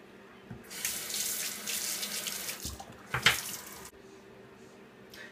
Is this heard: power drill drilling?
no